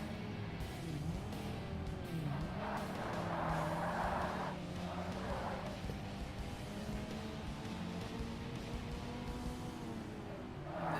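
Car engine droning and tires squealing under braking in the Forza Motorsport racing game, a continuous loud motor with shifting pitch and a brief skid hiss midway, with no talk.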